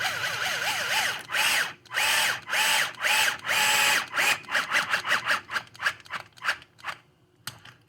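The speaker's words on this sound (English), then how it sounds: "run your screws down." A power drill drives screws to mount a fuel tank on a WRC SBX-2 build, with close, loud whirring bursts, several long runs and then a quick series of short pulses that fade out at the end.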